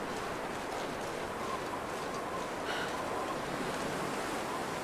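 Video game wind in The Long Dark roars steadily and fairly loud throughout, a constant rushing blow with no voices.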